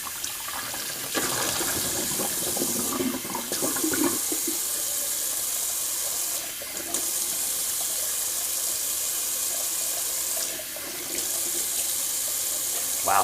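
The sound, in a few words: cold water running from tap for rinse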